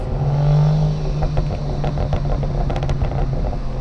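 A single-turbo BMW 335i engine revs during a pull, a loud, close, steady drone with rising rumble and some clattery mechanical texture, with no talking.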